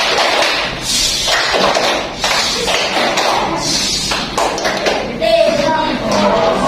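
Classroom children seated at their desks do the 'tepuk diam' clap, a series of sharp, close group claps and taps with voices chanting over them.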